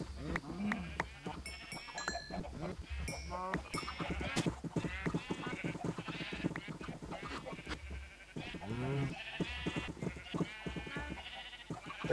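Blocky sheep bleating on a Minecraft sheep farm, repeated short bleats from several animals mixed with other farm game sounds while someone talks over them throughout.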